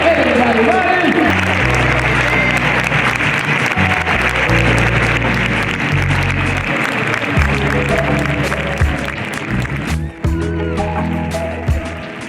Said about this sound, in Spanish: Fuerte el aplauso para José María.